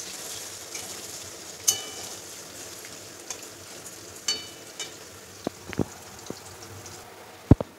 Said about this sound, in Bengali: তো পেঁয়াজগুলোকে আমি ভালো করে লাল লাল করে ভেজে নেব।